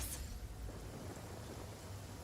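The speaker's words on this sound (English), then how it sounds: "I like the rain." Rain falls steadily as a soft, faint, continuous hiss with a low rumbling wash underneath, no voices present.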